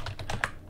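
A few quick, soft keystrokes tapped on a computer keyboard while entering a command in a terminal, close and quiet, with no talking.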